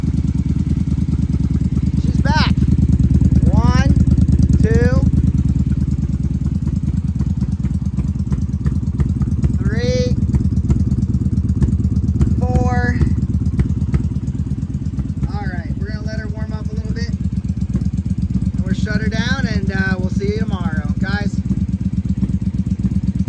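A 1994–2003 Honda Magna 750 VF750C motorcycle engine idles steadily and loud throughout, a close, continuous low rumble with a slight rev swell early on, while someone talks intermittently over it.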